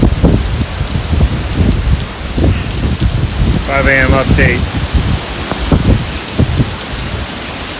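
Heavy rain from a hurricane pours down steadily and loudly, with dense drops hitting surfaces and low gusting rumbles, and a voice speaks briefly under the downpour.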